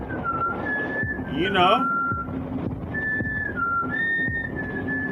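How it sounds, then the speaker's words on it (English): A melodic whistle in a horror video game rises and falls in pitch, with several phrases close and clear, while a person talks over it. "why is that whistling so alarming to her?"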